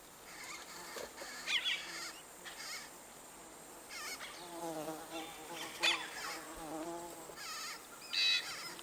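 Wasps buzz around their nest in the flooded Amazon rainforest, a steady insect drone mixed with sharp rising bird calls from a cacique colony nesting close by.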